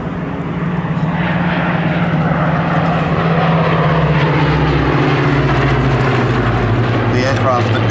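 A Hawker Hurricane fighter makes a flying display at Duxford in 2004. A loud, steady propeller engine drone holds throughout, with a commentator talking over it.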